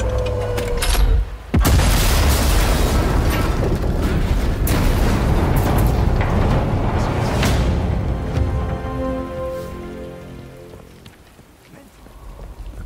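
A sabotaged rifle blows up in Sniper Elite 5 with a loud, sharp boom, followed by a long rumbling roar and crackling debris that slowly fades over several seconds.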